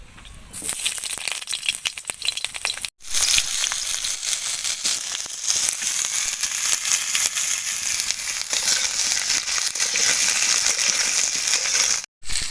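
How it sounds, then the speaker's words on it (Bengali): Potatoes frying in hot oil in a wok for a spicy magur fish curry, giving a loud, steady sizzle with crackling bursts that runs almost without a break. "রসার জন্য আমি আলুগুলো ভেজে নেব।"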